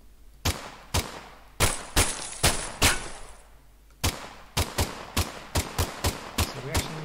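Repeated gunshots from a third-person multiplayer shooter built in Unreal Engine 5, sharp loud bursts fired singly and in quick clusters of two or three, with short gaps between volleys.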